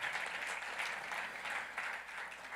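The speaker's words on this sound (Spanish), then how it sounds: "Dele palmas al Señor." A church congregation at a retreat service in New York claps, producing a continuous patter of moderately distant applause that swells and eases slightly across the short span.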